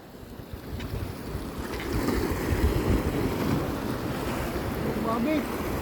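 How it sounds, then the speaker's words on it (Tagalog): Sea waves surge and slap against the rocks at the base of a lighthouse, a steady roar of water mixed with gusty wind buffeting the microphone. "Grabe hampas ng tubig,"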